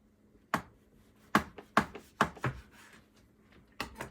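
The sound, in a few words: knife cutting chilled chocolate chip cookie dough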